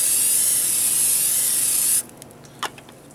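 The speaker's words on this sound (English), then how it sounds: "Spray it down pretty good." Olive oil sprayed into a hot pan on a pocket stove: one loud, close, continuous hiss lasting about two seconds, then stopping abruptly, followed by a few faint small clicks and a soft crackle.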